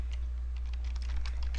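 Rapid computer keyboard typing while entering text in a desktop publishing layout, a quick run of light clicky keystrokes that grows busier midway, close and clear over a low steady hum.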